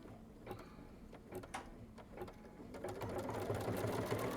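A sewing machine stitches through a thick quilted bag, a steady mechanical whir building louder toward the end, with scattered clicks early on and no voices.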